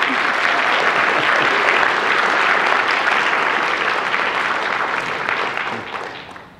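Live audience applauding steadily for several seconds, a dense, loud wash of clapping that tapers off toward the end.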